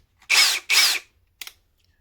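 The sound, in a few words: Ryobi 30th Anniversary cordless drill running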